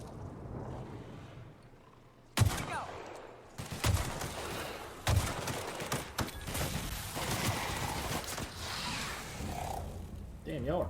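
Gunfire in The Outer Worlds video game: sharp shots and bursts ring out repeatedly over a continuous rumble of combat noise, with a few louder cracks standing out.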